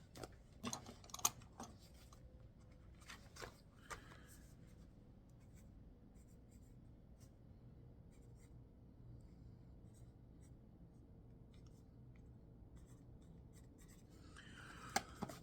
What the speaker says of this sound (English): Let's write that down real quick.